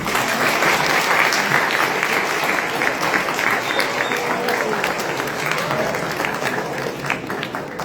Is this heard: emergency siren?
no